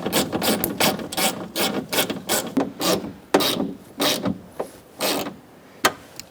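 A hand ratchet snugs up the bolts on a rear power window regulator in a 2002-2006 Honda CR-V, giving quick bursts of clicking in an uneven rhythm, close and alone with no talk.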